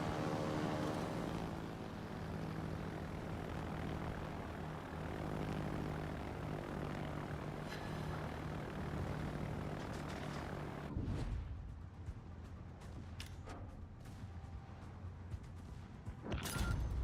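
A fighter plane's engine takes off in a naval combat video game, a loud, steady propeller-like drone for about eleven seconds, then it cuts away to a much quieter scene with scattered light clicks.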